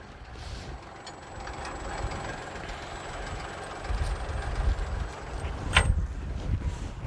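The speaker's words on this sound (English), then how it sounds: "Now Ben, go ahead and turn the tractor off" A tractor engine idles with a steady low rumble, joined by a high tonal whine and a few faint knocks and clanks.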